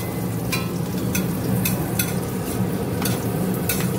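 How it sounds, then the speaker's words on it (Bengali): Raisins frying in a pan give a steady soft sizzle, punctuated by regular scraping clinks of a spatula stirring about every half second, close and without speech. "আর এই যে মা এই পাশে কিশমিশগুলো ভাজতে দিয়ে দিচ্ছে"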